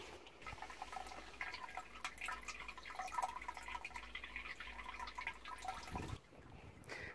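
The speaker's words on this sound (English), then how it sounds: "And this is definitely trickling." Water trickling into a newly installed drain in a parking lot draining the north side of a property, a faint steady patter of drips and running water outdoors, ending with a brief louder splash.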